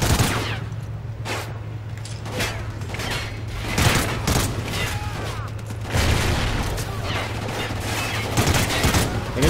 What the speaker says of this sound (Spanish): Vamos a empezar nosotros también a darle con los tiros.